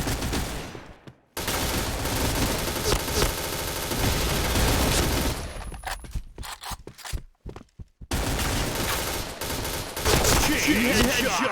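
Dense, loud gunfire from a video game shooting practice session, with rapid bursts filling most of the clip and brief pauses between volleys.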